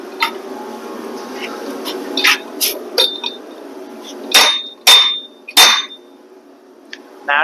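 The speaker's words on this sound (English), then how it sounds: "Now I just need a hammer." Sharp metallic hammer strikes ring out while installing a rack and pinion on a vehicle, a few scattered taps then three loud, resonant blows in quick succession, with a low hum underneath.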